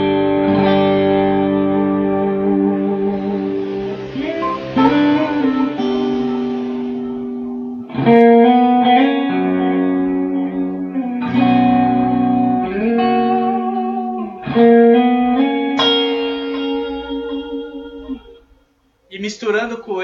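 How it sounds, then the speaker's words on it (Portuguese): An electric guitar played through a subtle drive blended with a clean signal, plus reverb and delay from a Nova System effects unit, rings out sustained melodic phrases with long echoing tails, loud and close, ending in a brief pause. "eu duplico o som da guitarra clean com o drive"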